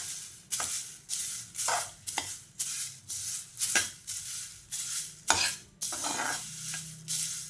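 Curry leaves dry-roasting with a little urad dal in a pan without oil, stirred in steady repeated scrapes about every half second, each stroke a close, crisp rustling swish over faint dry crackle, with no voices.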